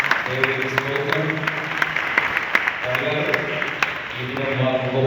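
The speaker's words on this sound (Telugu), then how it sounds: "వారి కొరకు కూడా మనం ఒకసారి చప్పట్లు కొడదాం." A church congregation at the 109th anniversary of CSI Wesley Church in Secunderabad claps, scattered sharp hand claps sounding under a man's ongoing speech.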